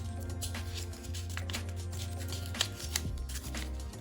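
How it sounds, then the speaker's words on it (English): A dried acrylic paint pour skin peels slowly off a tile with soft, faint crackling and sticky tearing sounds, close and quiet over a steady low hum. "I loosen each side a little bit at a time and just pull it back. It comes right off."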